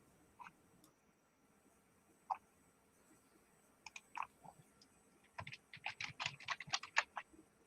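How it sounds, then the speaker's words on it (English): Someone types on a computer keyboard in a quiet room. The keystrokes come in soft, scattered clicks at first, then speed up into a brisk, closer flurry of taps near the end. No one speaks. "Gotta continue typing this."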